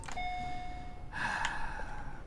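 A two-tone ding-dong doorbell chime in the horror video game Husk, a clear bright tone followed by a second brighter chord that rings out over a low background hum, with no talking.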